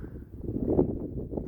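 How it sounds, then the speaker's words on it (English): Outdoors near Box and Cottonwood canyon, wind buffets the microphone in low, rumbling gusts that swell and ease, moderately loud and steady, with no talking. "And I apologize for the wind."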